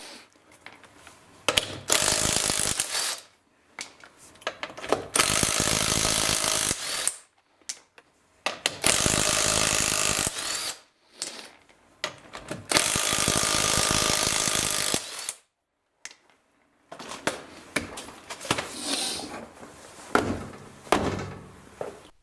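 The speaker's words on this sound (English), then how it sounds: "I'm going to remove the lug nuts with my handy cordless impact wrench" Cordless impact wrench removing car lug nuts on a 2007 Chevy Equinox, in several loud, close bursts of rapid hammering rattle, each a few seconds long, separated by short pauses.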